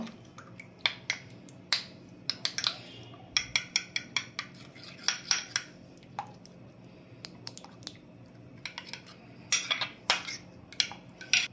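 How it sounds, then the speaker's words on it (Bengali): Eggs and sugar are whisked together in a bowl for an orange cake, giving a run of quick clicking, tapping strikes against the bowl in irregular bursts, close and fairly quiet, with a steady low hum behind it. "ডিম চিনি একসঙ্গে মিশ্রণটা, কুসুমটা একটু ফাটিয়ে নেব"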